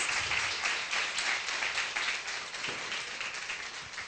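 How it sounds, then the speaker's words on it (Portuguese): Applause for participants of a discussion circle at a children's event, a dense, even wash of many hands clapping at moderate distance, sustained throughout without speech. "eu peço uma salva de palmas, então, para as participantes"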